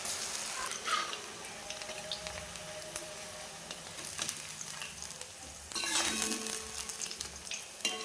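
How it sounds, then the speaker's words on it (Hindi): Onion pakoras dropped a little at a time into hot oil crackle and sizzle steadily close by, with bursts of louder bubbling when fresh batter goes in and faint clinks of utensils, no voices. "इधर मेरा तेल भी गर्म हो चुका है। चलिए मैं थोड़ा थोड़ा करके इसमें डाल देती हूँ।"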